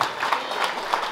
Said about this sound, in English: a big round of applause for these two heavyweight boxers